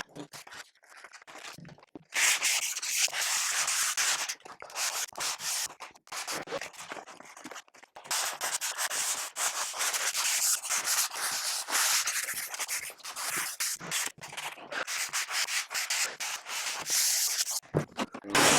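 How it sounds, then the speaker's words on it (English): Steady, rhythmic hand sanding of MDF with 240 grit sandpaper on a sanding block, a dry rasping scrub repeated in quick strokes that continues for a long stretch, close and even. "I'm going to take some sandpaper here. I've got 240 grit and I've got a little sanding block"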